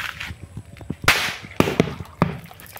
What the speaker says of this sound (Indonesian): Kita nyalakan lagi ya, mercon korektor.